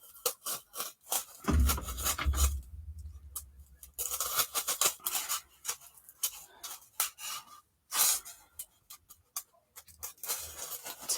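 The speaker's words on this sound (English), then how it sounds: "Let's see if this will cut through here." Small blade or scissors cutting through thin craft material to make a tiny diorama coffin; close, irregular bursts of scraping and snipping separated by short pauses.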